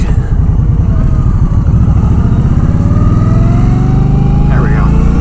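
Engine of a 2019 Indian Scout Bobber motorcycle while riding, a loud close continuous throb that climbs steadily in pitch as it accelerates, with wind rushing around it.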